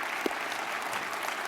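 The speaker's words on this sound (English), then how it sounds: "everybody please join me in giving our panel here a great round of applause" Audience applause for a CEO panel at a PCBC 2013 keynote lunch: a steady, dense wash of clapping from a large room that holds evenly for the whole short stretch.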